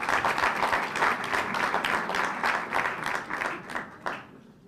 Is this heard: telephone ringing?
no